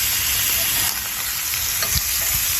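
Salmon sears in a hot cast iron pan, the fat burning off in a loud, dense, continuous sizzle and crackle, with a couple of faint clinks near the end and no talking.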